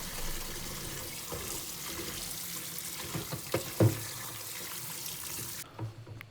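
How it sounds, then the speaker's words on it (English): Water from a tap runs steadily into a basin being filled to soak a computer's plastic front panel, a continuous close splashing flow with a few louder knocks near the end before it cuts off. "I'm just going to be filling up some water here so that I can completely submerge the front panel"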